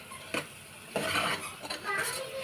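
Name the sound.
frying tomatoes, coriander and curry leaves in a pan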